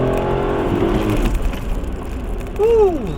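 A Suzuki S-Presso with its 1.0-litre K10C three-cylinder engine pulls in second gear: a buzzy, close engine drone fades, then a short rising-and-falling whine swells near the end.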